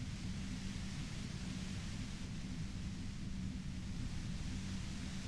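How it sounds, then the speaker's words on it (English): Loud, steady white-noise static from the Disco Elysium video game hisses continuously and evenly with a heavy low rumble underneath, no voices over it. "You hear through the white noise. It's especially bad suddenly."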